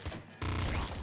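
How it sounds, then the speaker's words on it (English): A very fast burst of gunfire from the top-down shooter Nuclear Throne (Ultra Mod), a dense, loud, continuous rattle of rapid shots after a short quiet lead-in, with no voice over it. "We wait like a second and we get like a really fast burst of shots"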